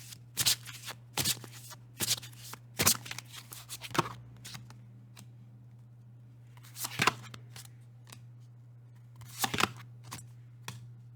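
Oracle cards being shuffled and drawn for an archangel reading: crisp riffling bursts and card snaps in three clusters, close and fairly loud over a steady low hum, with quiet gaps between.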